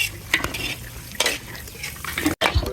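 Garlic sautéed until golden brown for street-style tinola, with a continuous close sizzle and a few scraping stirs of a utensil against the pot, with no talk.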